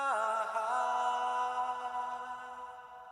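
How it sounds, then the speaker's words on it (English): A sustained sung or synth note in a song, drenched in wet reverb, rings out with a long smooth tail that slowly fades over about three seconds. "you see there's a lot of wet reverb on there"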